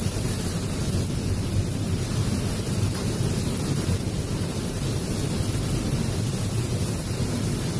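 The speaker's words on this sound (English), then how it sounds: "Y'all hear that wind?" Strong storm wind roars steadily in broadband gusts with heavy microphone buffeting, loud and continuous with no speech, during a severe storm with 50 mph winds, hail and a tornado alert.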